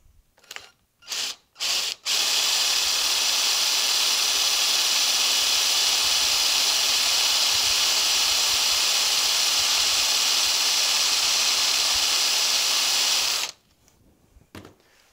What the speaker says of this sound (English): Now, I'm going to take this drill and remove most of the waste.